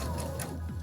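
A sewing machine stitching a small quilt square for a cottage sampler quilt gives a brief, steady mechanical whir with faint ticking, close and continuous.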